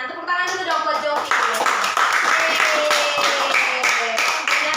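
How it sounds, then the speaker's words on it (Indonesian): Children in a classroom clap their hands for a classmate named Jovi in a lively burst of hand claps, mixed with cheerful young voices. "Tepuk tangan dulu dong buat Jovi."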